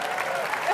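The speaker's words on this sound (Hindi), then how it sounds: "जोरदार तालियां जॉनी लीवर के लिए होनी चाहिए।" A studio audience at a televised Indian comedy entertainment show breaks into dense, sustained applause. The clapping is steady and full throughout.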